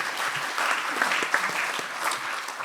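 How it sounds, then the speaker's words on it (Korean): Sustained audience applause at a science and technology awards ceremony held at the National Assembly, a dense even patter of many hands clapping steadily throughout. "큰 박수로 격려 한번 보내주십시오."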